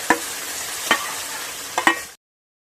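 Carrot paste is fried in hot ghee in a wok as sandesh mixture. A steady sizzling hiss is broken by three distinct stirring scrapes, up close, before the sound cuts off abruptly.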